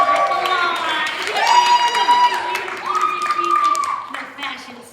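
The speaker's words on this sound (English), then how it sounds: "Let's give them a round of applause." Audience clapping and cheering at a live elf performance, steady applause running under loud overlapping voices and excited shouts throughout.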